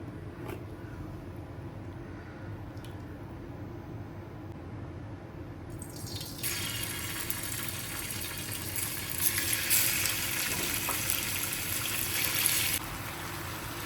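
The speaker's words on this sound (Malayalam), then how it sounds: "ഇതിലോട്ടിന് നാല് ടേബിൾ സ്പൂൺ നല്ലെണ്ണ ഒഴിക്കണം" Sesame oil pours into marinated chicken for a pickle, a soft continuous liquid trickle that starts partway through and runs steadily for several seconds over a low background hum, fairly quiet and close.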